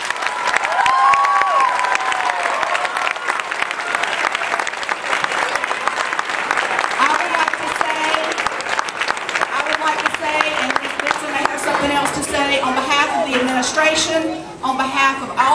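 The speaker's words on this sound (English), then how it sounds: "please give all of them a round of applause" A large crowd applauds steadily for the whole stretch at an elementary school Christmas Carol performance, with some cheering and shouts mixed in near the end.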